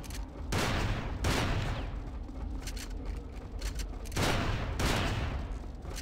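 Shotgun blasts in the Xbox game Hunter the Reckoning come as a few heavy, booming bursts, each with a long rumbling tail, over continuous game noise.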